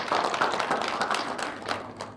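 An audience applauds at a televised Banten provincial dialogue forum, a short, dense burst of clapping from a studio crowd that holds steady and then tapers slightly.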